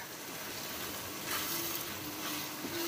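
Chili powder and coriander powder sizzle softly in hot oil as they are stirred for a chawle (lobia) masala, a quiet steady crackle heard alone.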